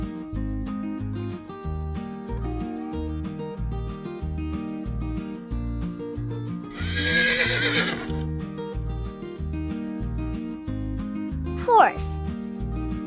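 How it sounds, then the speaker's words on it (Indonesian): A horse whinnies in a breathy, shaking neigh, then gives a sharp high squeal near the end, both heard over continuous upbeat background music. "horse,"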